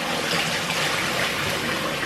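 Water runs continuously from a tap as saltfish is rinsed before boiling, a steady close hiss and splash without pause or talk.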